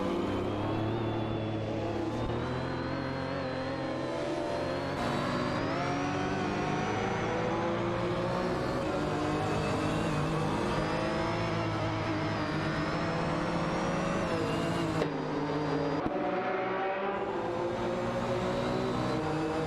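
Video game race cars, a McLaren F1 and a Jaguar XJ220, drone steadily with layered engine tones and rising and falling revs, continuous and fairly close with no gaps or talk.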